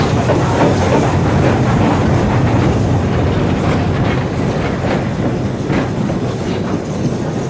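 A steam train runs at speed along the main line, a loud, continuous rumble and rush of wheels on rail with no voices.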